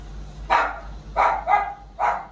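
A newly acquired dog barks four times in quick, uneven succession, close and fairly loud over a low steady hum, with no talking.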